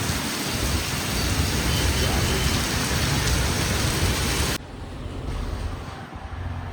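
Heavy rain pouring down hard in a steady, dense roar close by, the full downpour dropping suddenly to a softer, more muffled hiss of rainfall for the last couple of seconds.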